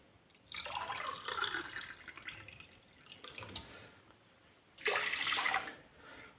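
Water pouring from a glass into a fresh juice mixture made with squeezed, unstrained citrus pulp in a home kitchen, two separate close splashing pours with a quieter trickle between them, no talking.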